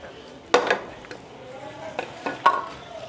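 A spoon stirs a thickening rice kheer mixture with crushed almonds in a pot, making a few sharp clinks and soft scrapes up close, separated by short pauses.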